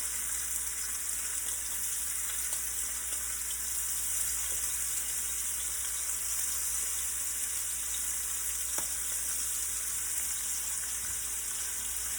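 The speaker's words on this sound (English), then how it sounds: "And you're gonna let that sear." Shrimp searing in hot oil in a pot for Cajun seafood alfredo, a constant soft hiss and sizzle held at an even level for several seconds, with a faint tap or two and no voices.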